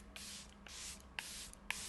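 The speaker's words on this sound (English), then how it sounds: "let's set this all in with some setting spray" Setting spray misted over a finished red carpet makeup look, several short hissing bursts spaced across a couple of seconds, close and fairly quiet with soft handling noise between sprays.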